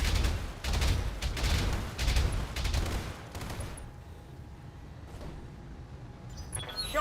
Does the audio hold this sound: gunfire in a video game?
yes